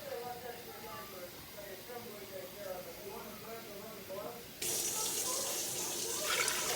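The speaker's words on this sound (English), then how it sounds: "we're going to add our water" Voices murmur over faint background noise, then water suddenly gushes loudly from a tap into a pot in a steady, hissing stream for the last couple of seconds.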